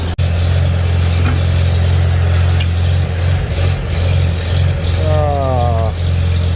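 A car engine idles with a loud, steady low rumble while someone adjusts the carburetor with a screwdriver, the revs wavering slightly near the end.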